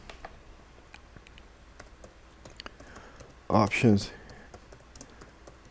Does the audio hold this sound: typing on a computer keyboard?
yes